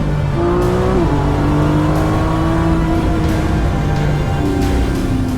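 A race car on a private race track runs its final lap, the engine loud and steady with rising and shifting revs close by, the tone dropping and climbing again as it accelerates.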